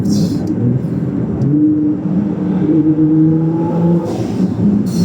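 A Nissan GT-R R35 sits close by, its engine idling and then revving in a steady, rising hum, with people talking over it and brief bursts of sound at the start and end.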